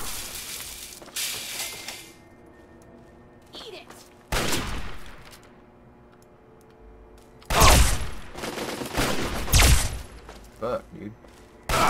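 Bursts of gunfire in the PC game Fallout 3 during a raid on a grocery store, arriving in loud clustered volleys separated by quieter gaps, with a man swearing between them.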